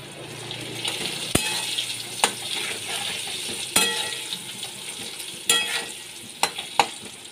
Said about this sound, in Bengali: নুন হলুদ দিয়ে আমি ছোলা কচুগুলো ভেজে নিচ্ছি।